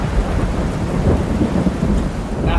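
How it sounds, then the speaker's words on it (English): Heavy rain pours outside with deep rumbling thunder rolling underneath, a loud continuous wash of low-frequency roar and hiss with no voices. "But unfortunately, it's raining outside."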